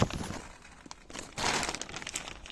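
Big heavy-duty plastic bag from a parcel crinkling and rustling up close, quiet irregular bursts of crackling that swell into a louder stretch of crumpling midway.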